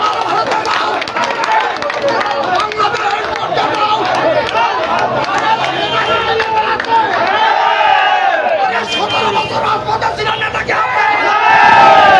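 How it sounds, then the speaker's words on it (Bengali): A large procession crowd arriving at a political rally in Kaliganj, loud massed voices chanting and shouting in a continuous roar that swells toward the end, with an amplified voice over the din. "এই মাত্র 6 নং ওয়ার্ড থেকে একটি বিশাল মিছিল আমাদের মাঝে উপস্থিত হয়েছে"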